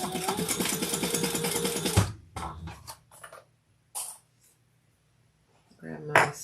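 A sewing machine runs steadily for about two seconds, stitching around a fabric training treat bag, then stops. Soft handling clicks and rustles follow, with a brief louder clatter near the end.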